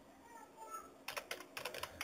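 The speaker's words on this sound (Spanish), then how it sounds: "escribimos la palabra" Fingers type on a computer keyboard on a Windows PC: a quick burst of close, crisp key clicks after a short quiet lull, then a second run of taps. There is no talking.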